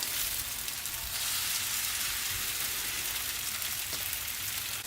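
Stuffed msemen flatbreads fry in a hot pan, giving off a steady, dense sizzle and crackle like light rain that stays close and constant throughout, with no talking.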